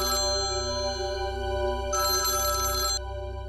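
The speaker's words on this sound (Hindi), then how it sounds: "कब से फोन बज रहा है." A phone rings with a steady electronic ringtone, its pattern shifting to a brighter burst partway through, loud and close with no talking.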